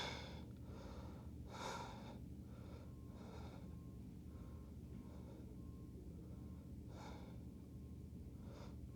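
Slow, deep breaths drawn during an intermediate yoga shoulder stretch, a few soft airy inhales and exhales rising and falling against a low steady background hum, quiet and close.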